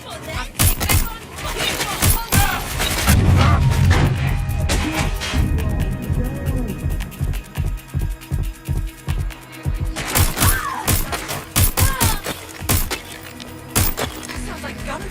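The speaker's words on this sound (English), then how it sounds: "Sounds like gunfire." Gunfire in the video game Watch Dogs Legion: rapid bursts and repeated sharp shots in rhythmic volleys, loud and close, mixed with impacts and crashes during a chase, with voices shouting over it.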